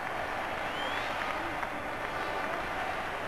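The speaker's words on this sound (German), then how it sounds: "Teilweise geradezu südländische Begeisterung hier bei den Zuschauern. Vor allem die Rapid-Anhänger sorgen im Augenblick hier für die Stimmung." Rapid Vienna fans at the 1991 Austrian cup final fill the football stadium with a dense, steady roar of cheering and clapping, with a commentator's voice running faintly over the crowd noise.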